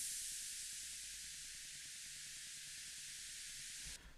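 Steady white noise from an Ableton Operator synth used as a minimal techno effect, a bright, even hiss held for about four seconds before cutting off abruptly, with a faint low pulse underneath.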